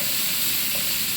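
Ingredients for sambar sauté in a hot pan, a dense, continuous close-up sizzle and hiss with no pauses.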